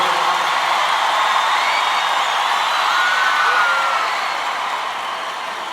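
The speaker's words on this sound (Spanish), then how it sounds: "Un aplauso fuerte para Felipe y Jorge de Perú." A large live concert audience applauds and cheers for two guests from Peru, a dense, steady roar of clapping with whoops that holds loud and then eases slightly toward the end.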